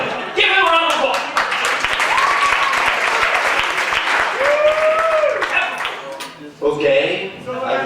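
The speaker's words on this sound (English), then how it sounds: "Give him a round of applause." Steady applause from a crowd at a live event, loud and close, with people talking and calling out over the clapping as it briefly dips near the end and swells again.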